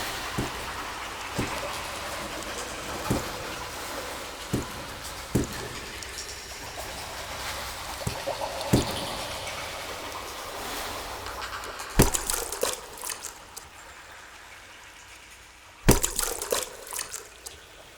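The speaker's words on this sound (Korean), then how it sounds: "빗방울은 나뭇잎을 따라 계곡이 되고 폭포가 되고 물폭탄이 된다." Raindrops fall off leaves into water under a steady soft rain hiss. Sparse, irregular drips tick close by, and a few louder splashes and bursts of heavier pattering come near the end.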